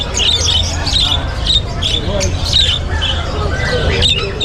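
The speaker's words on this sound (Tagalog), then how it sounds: "African lovebirds" Loud, busy chorus of squawks and shrill chirps from many African lovebirds at a pet market, continuous and overlapping, with a low background hum and faint crowd murmur.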